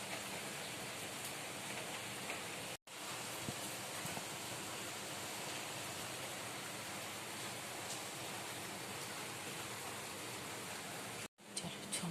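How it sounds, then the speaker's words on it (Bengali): Steady rain falling in the early morning, a dense continuous hiss, fairly faint and even, broken by two brief dropouts, with no voices. "বৃষ্টি ভেজা"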